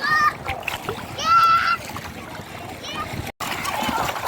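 Water splashing nearby as people swim at a beach, mixed with children's high voices calling out in short bursts.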